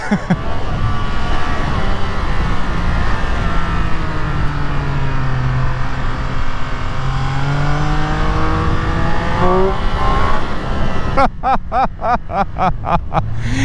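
A 2021 Triumph Speed Triple 1200 RS engine revs and accelerates loudly, its pitch rising and falling through the gears, ending in a rapid stuttering burst, close and continuous.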